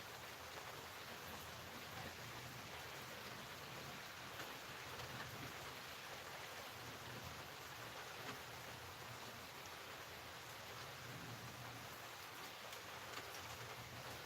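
Steady, soft rainfall hisses evenly throughout with no voices, a quiet continuous wash of drops.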